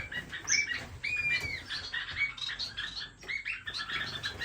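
Caged pet finches, including a starfinch, chirp and tweet in quick overlapping bursts, with occasional wing flutters and squawks, fairly close and steady throughout with no talking.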